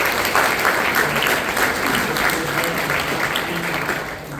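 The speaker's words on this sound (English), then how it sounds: "So let's all give Mason a round of applause." A packed room of people claps for a student at a signing ceremony, producing dense, loud, sustained applause that fades slightly toward the end, with no one speaking over it.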